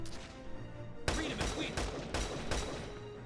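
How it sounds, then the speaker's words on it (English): Gunfire from the video game Valkyria Chronicles 4: about four loud, sharp shots at a steady rhythm, each one cutting off abruptly, with faint game music in the background. "So, I'm gonna shoot him instead."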